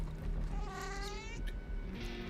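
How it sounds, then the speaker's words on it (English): An angry cat in a video game yowls in a long, drawn-out meow that rises and wavers, moderately close and loud against a low background hum. "Angry cat."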